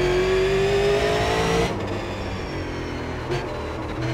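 A Super Late Model race car engine in the iRacing simulator at Thompson and Langley roars loud and close with a rising rev. It then drops to a steady lower drone with a brief blip.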